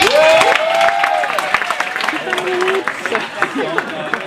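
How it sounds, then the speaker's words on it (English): A wedding crowd breaks into a short burst of loud clapping and cheers for Colleen, fading into scattered claps, with someone talking over it. "Round of applause for Colleen, that was great."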